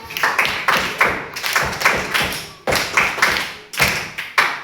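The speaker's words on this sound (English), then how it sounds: "Clap for Caroline." A classroom of students claps for a classmate in quick rhythmic bursts, with sharp patterned claps repeating in close, loud groups throughout.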